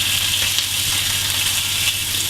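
Steak frying hard in a pan, pushed to one side: a loud, dense, steady sizzle and hiss filling the space, close by and continuous, with no talk.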